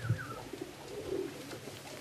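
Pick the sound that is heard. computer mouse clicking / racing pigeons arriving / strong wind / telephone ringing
racing pigeons arriving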